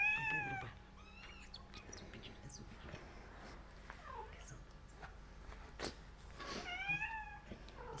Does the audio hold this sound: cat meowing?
yes